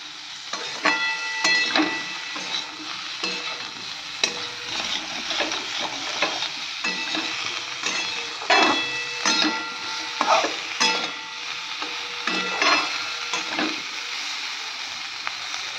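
Cumin, chili, turmeric and salt sauté in hot oil in a pan, a steady sizzle broken by repeated scraping clacks of stirring at an uneven rhythm.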